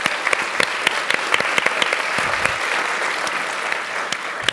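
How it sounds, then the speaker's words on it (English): A room of people at an energy industry event claps in sustained applause, many close, sharp individual claps layered into a steady wash. "Great feedback. Round of applause."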